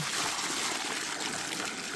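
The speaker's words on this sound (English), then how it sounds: "So I'll give them some more water here" Water pours steadily for homestead animals, a continuous close rushing splash with no pauses or voices.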